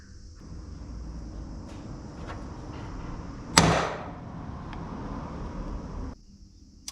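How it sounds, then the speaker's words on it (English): One sharp metallic strike rings out as a center punch is hammered into a broken M6 stud on a Daihatsu Mira, standing alone against a faint steady background hum. "what I'm going to do is center punch it."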